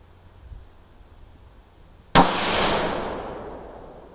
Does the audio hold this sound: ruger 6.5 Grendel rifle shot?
yes